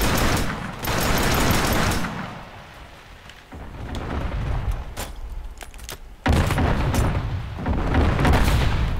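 Shots from the STA14 sniper rifle in the video game Killzone: Shadow Fall, loud sharp cracks at irregular intervals with rumbling echoes and booms over heavy, continuous battle noise.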